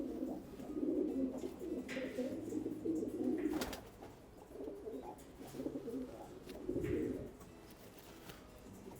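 Breeding racing pigeons coo in a loft, their soft low murmuring calls rising and falling in overlapping bursts at a quiet level, with faint background noise and no clear talk.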